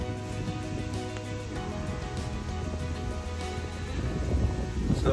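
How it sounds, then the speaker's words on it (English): Steady rain falling on mangosteen trees, a dense continuous patter with a low rumble underneath, growing a little heavier toward the end. "now it's raining"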